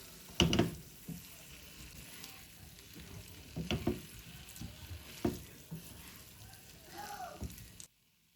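Flour being stirred into onions frying in a pan for goulash, with quiet sizzling under a few sharp knocks and scrapes of the spoon, then a longer scraping pass before the sound cuts off.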